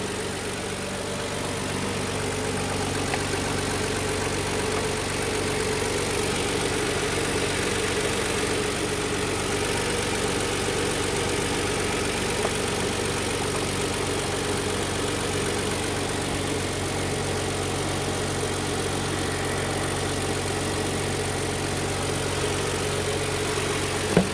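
Kia All New K7 with an LPG engine idling, a steady, smooth low hum with a faint mechanical whine holding constant throughout, close and unbroken, with no talking.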